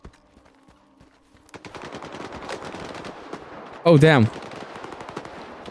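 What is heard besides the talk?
gunfire in firefight, video game STALKER 2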